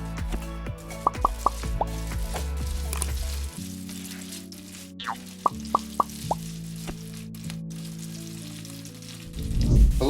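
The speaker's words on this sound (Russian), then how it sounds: "Закидываем лук и обжариваем до золотистого цвета." Onions fry in heated oil in a pan until golden, giving a steady close sizzle with a few sharp pops and crackles throughout.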